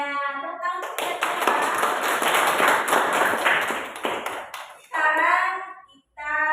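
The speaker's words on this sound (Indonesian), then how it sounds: "Tepuk tangan untuk kita" A classroom of pupils claps hands together in a loud, busy burst lasting a few seconds, framed by a teacher's voice speaking just before and after the clapping.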